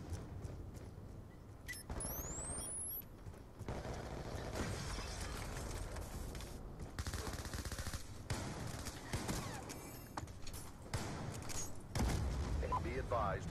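A KSG 12 pump shotgun fires in Black Ops 2 amid constant multiplayer battle noise, with repeated sharp blasts mixed among other gunfire and game effects.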